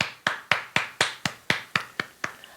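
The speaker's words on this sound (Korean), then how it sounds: "우리 하나님께 감사의 박수 드리겠습니다." A church congregation applauds in even unison, about ten sharp claps falling at a steady quick beat, each ringing briefly before the next.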